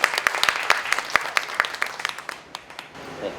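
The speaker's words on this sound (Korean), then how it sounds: "큰 박수로 환영해 주십시오." Audience of CEOs at a Yeouido business forum applauding to welcome a professor to the lecture podium: brisk, fairly close clapping with distinct sharp claps, thinning out and fading toward the end.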